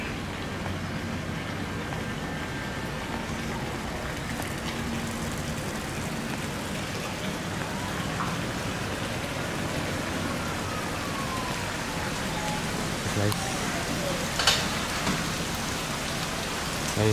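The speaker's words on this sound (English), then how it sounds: "It's the rain." Steady rain falls throughout at the Banyan Tree resort in Sanya, China, a dense hiss of drops on surfaces with a faint whine passing in the distance.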